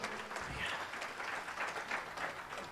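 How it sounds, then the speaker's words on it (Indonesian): Congregational applause at a church thanksgiving retreat session: steady, fairly faint clapping from a crowd, sustained for the whole stretch without a break. "Beri tepuk tangan dulu."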